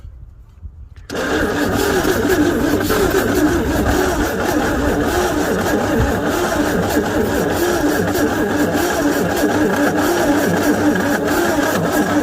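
A 1961 Chevy Biscayne pulled from a junkyard, its engine catching after a backfire through the carburetor and then running loud and steady at close range.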